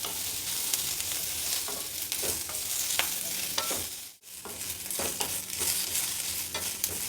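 Onion and garlic fry on a low flame in a pan, a continuous close sizzle with frequent stirring scrapes and one brief dip to near quiet partway through, no talking.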